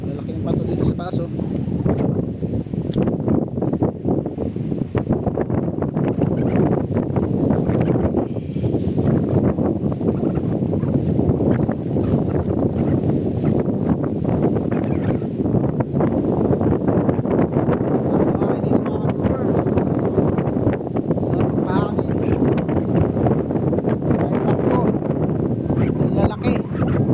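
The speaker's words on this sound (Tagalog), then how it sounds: "Lakas na yung hangin mga ka-doors ha" Strong wind buffets the microphone on a mountaintop beside a large cross embedded in a big rock, a steady low roar that runs the whole time while someone talks over it.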